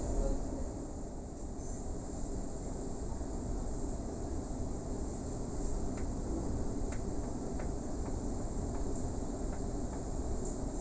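A Sydney suburban train runs toward Granville, giving a continuous loud rumble and rushing noise with a few faint clicks over the rails.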